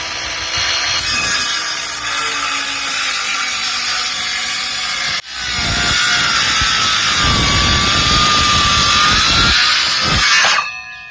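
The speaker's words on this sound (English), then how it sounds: "So here's my new DeWalt skill saw." A new DeWalt circular saw cuts through timber for a wooden bridge buttress, a loud steady whine running about ten seconds, briefly dropping around midway as the cut restarts before spinning down, with no talk.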